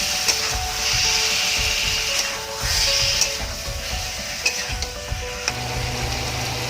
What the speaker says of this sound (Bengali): এবার এর মধ্যে দিয়ে দেবো আমি ম্যারিনেট করা চিকেনটা। দিয়ে মশলার সাথে ভালো করে মিশিয়ে নেব।